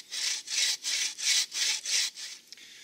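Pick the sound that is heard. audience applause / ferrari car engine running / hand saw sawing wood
hand saw sawing wood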